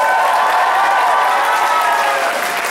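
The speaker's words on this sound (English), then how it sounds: "Big round of applause, come on." Sustained audience applause fills a convention hall during the Kitacon 2012 opening ceremony, a steady dense clapping wash from a large crowd that holds at full level throughout.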